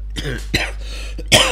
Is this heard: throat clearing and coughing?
yes